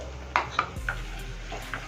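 Dried red chillies go into hot oil for a tempering, with a few clinking spoon taps and scrapes on the pan over a low, steady sizzle, no voices.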